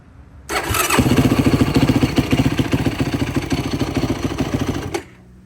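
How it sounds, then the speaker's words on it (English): A Yamaha YFZ450 ATV engine cranks and catches, then settles into a loud, steady, chugging idle with a rapid regular pulse, close by, before cutting off. "I just want to give it one more start and see."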